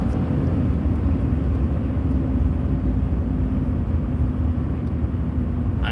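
A Ram pickup truck's engine rumbles steadily while cruising on a scenic Ozarks drive, a loud, low, even drone with road noise, heard from inside the cab and unbroken throughout.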